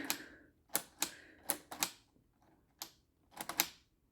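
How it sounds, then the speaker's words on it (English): Sharp mechanical clicks from a small plastic Lego typewriter, arriving in irregular bursts of one to three with short pauses between them, close and crisp. "I put together this Lego typewriter that actually moves and makes clicky sounds"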